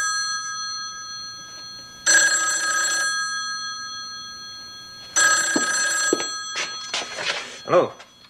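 A telephone rings in two long bursts with a bright electronic trill, a pause between them, followed by a short pickup clatter and a voice answering nearby.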